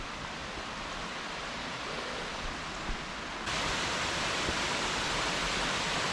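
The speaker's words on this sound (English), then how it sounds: "I found the South Queensferry waterfall and a boggy swamp thing." Rushing water of a small waterfall beside a boggy patch in South Queensferry, a steady broadband roar that grows noticeably louder and fuller about halfway through, with no voices.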